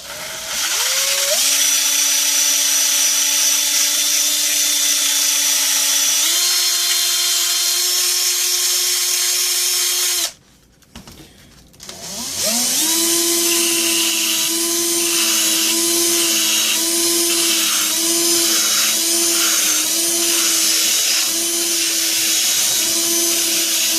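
A power sander whines loudly and steadily against a leather knife sheath, its pitch stepping up once, then cutting out briefly before restarting with a wavering, pulsing drone as the sanding continues to the end.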